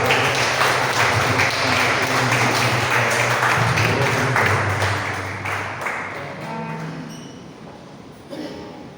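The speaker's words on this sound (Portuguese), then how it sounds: "Você pode aplaudir o Senhor se você recebe essa palavra." A church congregation applauding at the close of a worship service, a dense, continuous clatter of many hands that fades toward the end, with a low sustained organ or keyboard tone underneath.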